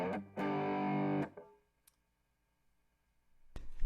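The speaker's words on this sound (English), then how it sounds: "here's just a basic overdrive." A single loud, gritty overdriven electric guitar chord, reverb turned off, rings for about a second and is choked off. Silence and a faint click follow before a brief burst of noise at the end.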